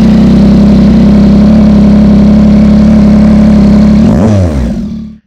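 Loud, close, steady idle of a 2024 Yamaha MT-09 SP motorcycle engine with the exhaust baffle removed, a deep even thrum with no talk that wavers briefly near the end before cutting off.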